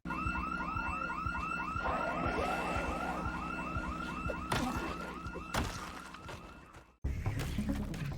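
A car alarm goes off in the Project Zomboid zombie survival game. It gives a loud, rapid warbling siren that cycles steadily for several seconds, with thumping and clatter underneath, then cuts off abruptly.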